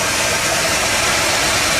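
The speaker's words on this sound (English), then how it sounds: "It's idling so good." A 1978 Dodge D100 pickup, revived after sitting almost 20 years, idles loudly and close up with a dense, steady rumble and hiss that fills the whole moment, with no voices over it.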